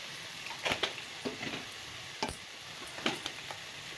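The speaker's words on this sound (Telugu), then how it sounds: "ఇప్పుడు నేను కొబ్బరి పొడి యాడ్ చేసుకుంటున్నాను అండి." Coconut powder being stirred into a sizzling mutton keema curry, a faint steady sizzle broken by a few soft scraping stirs of a spoon in the pan.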